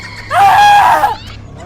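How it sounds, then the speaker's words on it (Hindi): A woman's loud, sustained scream of horror, sharp and piercing, rising then holding for nearly a second before cutting off, with no talk over it. "अगले ही पल उसकी चीख निकल गई।"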